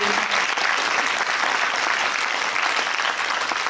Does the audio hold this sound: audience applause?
yes